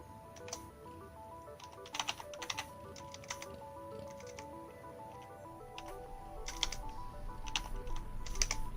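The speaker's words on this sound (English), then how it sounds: "If I can type." Someone types on a computer keyboard at the end of a live-streamed Xbox game session. Soft, irregular key clicks come in bunches and short bursts over a quiet background, with no talking.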